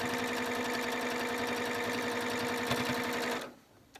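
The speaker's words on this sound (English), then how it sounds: "Stitch all the way to the end." A sewing machine stitches a quilt block seam with a fast, steady, close mechanical whir that runs for several seconds before stopping abruptly near the end, with no voices.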